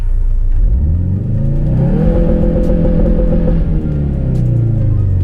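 Ford Focus RS engine revs and holds near its launch control limit of about 5,000 RPM, a loud, close, sustained growl that rises, hovers steadily, then dips back as the throttle eases.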